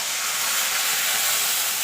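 A splash of water hits hot cumin, whole garam masala, ginger and green chilli in a pan, producing a loud, continuous sizzling hiss that fills the short moment without talk.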